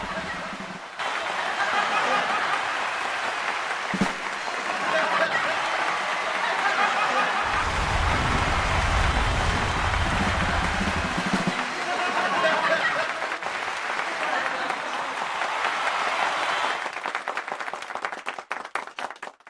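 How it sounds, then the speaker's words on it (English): Crowd at an online-streamed anniversary event clapping steadily for about twenty seconds, with scattered chuckles and some talk mixed in and a brief low rumble partway through. "So, anybody who can relate, clap louder."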